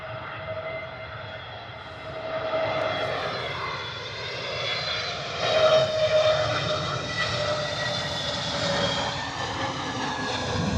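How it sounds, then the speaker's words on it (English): Airbus A320neo jet landing at Bristol Airport on a crosswind approach, a loud continuous engine roar with shifting whining tones that swells toward the middle, heard alone without talk. "A320 Neo in from Edinburgh into Bristol."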